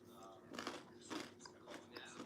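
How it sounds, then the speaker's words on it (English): Someone chews food in short crunchy bites, close up, with bursts coming roughly every half second over a quiet indoor background and faint voice-like sounds. "Sorry, I was talking while chewing."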